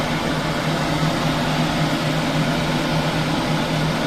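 Homemade lathe running in reverse on its first start, a steady close motor hum with a constant low drone and broadband whir, unchanging throughout with no talk.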